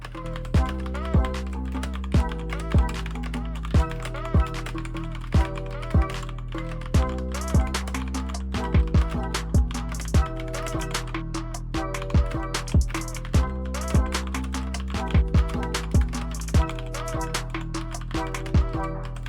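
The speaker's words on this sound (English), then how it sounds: "Here is a detailed typing test of me typing with the yellow switches." Typing on a MageGee Star75 mechanical keyboard fitted with yellow switches: a steady run of crisp, close keystroke clacks at an even typing pace, heard alone without talk.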